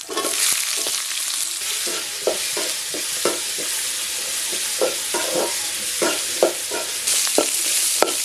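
Onions with green chillies and whole spices such as cinnamon sauté in a pan, giving a steady loud sizzle broken by regular scraping strokes of a stirring spoon, with no talking.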